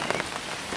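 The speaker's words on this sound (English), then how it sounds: "as this rain's starting to pelt it down" Heavy rain pelts down outdoors at a fishing lake, a dense, continuous patter on surfaces around, steady and close in a brief burst.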